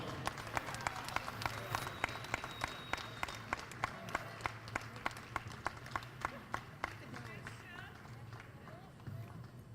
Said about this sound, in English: Let's give these former Lady Bobcats a big round of applause.